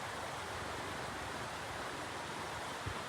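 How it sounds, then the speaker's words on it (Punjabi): An icy mountain river near the Atal Tunnel rushes past as a constant, even wash of broadband water noise, close and unbroken, with no speech. "ਵਗਦੀ ਆ ਨਦੀ ਇਧਰੋਂ"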